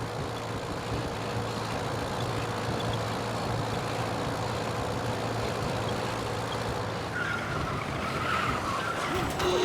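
Car driving with tires skidding in the video game Mafia: Definitive Edition, a steady engine drone and rolling tire noise filling the whole stretch, with a brief squeal rising near the end.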